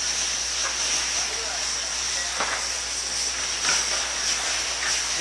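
Vodka poured into a hot pan of sautéed ingredients, held away from the stove flame, sizzles with a steady bright hiss and a few sharper crackles, moderately quiet throughout.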